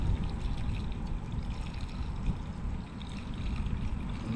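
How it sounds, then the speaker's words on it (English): Diesel fuel is poured from an old filter into a new one on a box truck, a steady close trickle and splash of liquid running for several seconds. "All right, so we're gonna try to go ahead and put the diesel from the old one"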